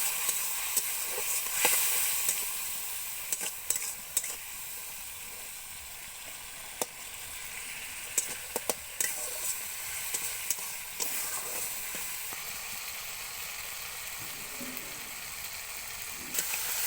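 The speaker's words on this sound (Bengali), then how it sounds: "এরপর দেবো টমেটো কুচি আর দেবো হলুদ গুঁড়ো দিয়ে ভালোভাবে মশলাটা কষিয়ে নিতে হবে" Spice paste with chopped tomato and turmeric stir-fried in a pan for a Malabar spinach and pumpkin ghonto, a constant soft sizzle broken by sharp, irregular clicks and scrapes of a spatula against the pan.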